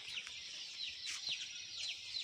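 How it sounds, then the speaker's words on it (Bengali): Day-old Banraja Hubbard colour bird chicks peep inside a poultry farm shed, a quiet steady flurry of high chirps with a few sharper peaks, soft and somewhat distant. "গতকাল বাচ্চা নিলাম বনরাজা হাবার্ড কালার বার্ড।"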